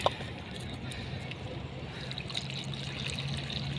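Tea, reheated milk tea, is poured, making a steady close trickle of liquid that runs continuously throughout.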